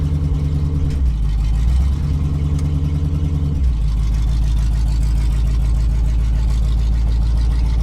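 A rescued, long-dormant 1970 Oldsmobile engine turns over and settles into a loud, steady, deep idle, with the rev briefly rising and falling in the first few seconds before holding even.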